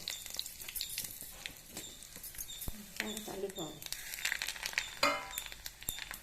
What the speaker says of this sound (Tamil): தாளிக்கிறதுக்கு தேங்காய் எண்ணெய் சூடாயின்ட்டுருக்கு. கடுகு, சிகப்பு மிளகா போடுறோம்.